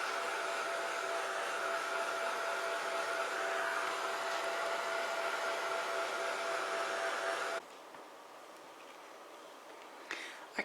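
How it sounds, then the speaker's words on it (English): Heat gun blowing over stamped ink on paper for a grunge craft background: a loud, steady whooshing roar that runs continuously close up, then cuts off, leaving quiet room tone. "so I'm going to hurry it up with the heat gun"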